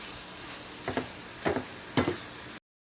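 A spoon scrapes and stirs khoa into a coconut barfi mixture in a pan, with three distinct scraping strokes about half a second apart over a faint background hiss, then abrupt silence.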